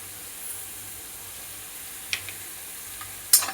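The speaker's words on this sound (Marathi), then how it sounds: "आता आपण जिरे टाकूया" Cumin seeds dropped into a hot pan while cooking sabudana khichdi with potato give a faint, steady sizzle, with a couple of brief crackling spits toward the end.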